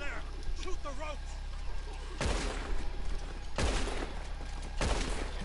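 Gunshots in Red Dead Redemption 2 during a rescue on Guarma, aimed at ropes: three loud, sharp blasts with long echoing tails ring out over a steady background of ambient noise and distant shouting voices.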